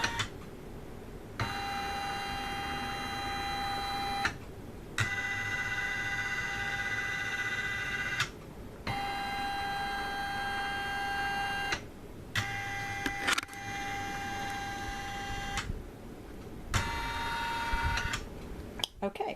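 Brother MB4 or Elna embroidery machine tracing a design outline, its stepper motor giving several bursts of steady whining hum, each a few seconds long, with short pauses between them, close and fairly loud with no talk.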